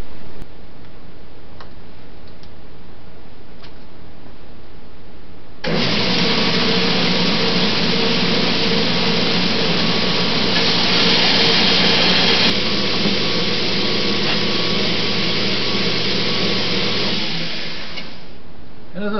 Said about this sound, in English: Let's sand the outside of it.